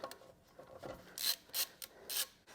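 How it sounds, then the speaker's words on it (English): Regular ratchet spinning lug nuts off a Tesla Model Y wheel: quiet, close, quick clicking bursts in several short runs, separated by brief pauses, with no talk. "I'm just going to use a regular ratchet. I'm just going to spin these lug nuts off."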